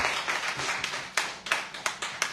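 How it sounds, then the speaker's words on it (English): A small group applauds an athlete's long jump personal best during a local news roundup. The claps are scattered and moderately close, with several sharp individual claps standing out toward the end. "So give her a round of applause."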